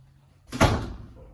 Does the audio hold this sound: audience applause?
no